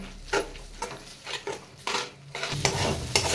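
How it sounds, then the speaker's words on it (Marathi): Green chilies cooking in thick spice masala over a medium flame, stirred in a pan with repeated scraping strokes over a soft sizzle, close by and without speech. "आता या मिरच्या या मसाल्यामध्ये छान अशा घट्ट होईपर्यंत परतून घ्यायच्यात"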